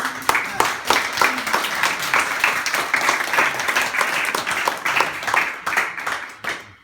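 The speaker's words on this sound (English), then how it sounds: "save the applause for the next one" Audience applause at a live beach broadcast holiday event, a steady run of close, sharp claps filling the whole stretch before tapering off at the end, with no talk over it.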